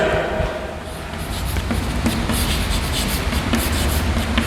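Marker or pen writing out a matrix on a board, a steady scratchy rubbing of strokes that continues through the clip, fairly close and without talk.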